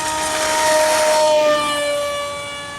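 A small electric RC plane, a Hobbyzone AeroScout S2 with a 1.1 m wingspan, whines loudly and steadily at full throttle as it climbs, the tone rising and then easing off as it moves away.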